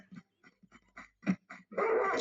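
A dog in the video game Tomb Raider 2 barks and yips in a quick series of short, sharp barks, ending in a harsher, louder burst.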